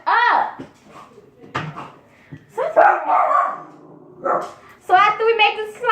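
A dog barks and yips in several sharp bursts close by, mixed with a person talking and scolding it indoors.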